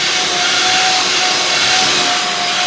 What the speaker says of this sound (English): Obviously want clean floors, so we're doing a sweep and vacuum.